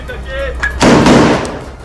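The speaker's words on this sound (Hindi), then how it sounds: "उन्होंने एक के बाद एक कई गोलियां चलाई" Faint voices, then a sudden loud burst of several gunshots in Gaza during the Israel-Hamas war that booms and rolls away in a long echo.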